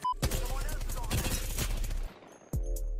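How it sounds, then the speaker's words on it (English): A shotgun in the video game Apex Legends fires a burst of loud, close blasts in quick succession, then cuts off briefly before a final shot sounds. "Look at how much damage this fucking shotgun's doing"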